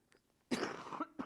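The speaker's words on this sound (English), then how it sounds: "Hopefully you can edit those coughs out." A single harsh cough burst, close and fairly loud, following a few faint breaths in a quiet room during a podcast recording.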